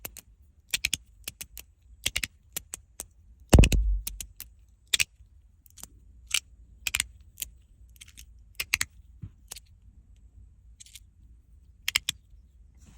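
Small sharp clicks from a trackless magnetic haptic fidget slider, scattered irregularly, some single and some in quick pairs, close and quiet in an otherwise still room, with one heavier thump partway through.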